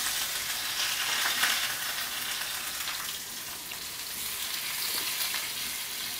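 Bangda mackerel fries crisply in a pan, a dense continuous hiss and crackle of hot oil heard up close without any voices.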